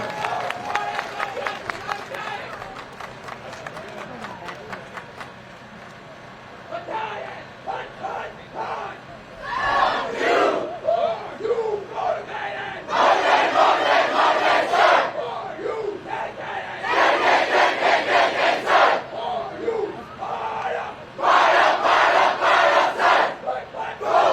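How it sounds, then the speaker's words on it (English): At a Veterans Day parade in Fayetteville, North Carolina, a crowd applauds and cheers for a volunteer award winner, rising in loud repeated bursts of clapping and shouting that interleave with an announcer speaking over a PA. "Give her a round of applause, ladies and gentlemen."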